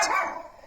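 A pet dog barks once, close and loud, at a passing mail truck; a single sharp bark that fades quickly.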